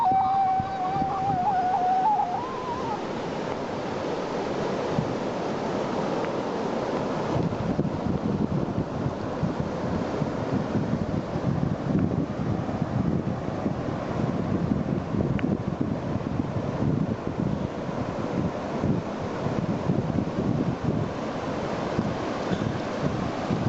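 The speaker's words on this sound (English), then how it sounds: "I can see the ocean." Ocean waves surge and wash continuously along a Costa Rica shoreline, loud and close, with heavy wind buffeting the microphone throughout and no voices.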